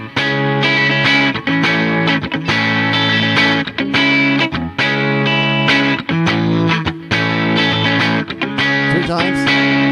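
Distorted electric guitar strums a riff, loud and close, in repeated choppy chord bursts with brief muted gaps between them.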